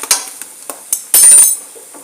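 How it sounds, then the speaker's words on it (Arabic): A spoon stirs eggplant frying in sauce in a pan, giving a few sharp scraping knocks against the metal with a brief louder clatter. Sizzling runs faintly underneath, close and short. "راني نطيب ميم طون لاصوص وميم طون راني نقلب في الباذنجان ديالي باش ما يتنحرقش"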